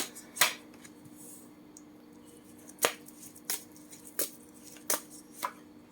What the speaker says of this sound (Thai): เริ่มสับไพ่ก่อนนะคะ